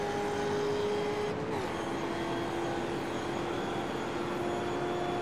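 Mustang race cars in a racing sim at Daytona, running near top speed with a steady, sustained engine drone and a brief pitch shift partway through.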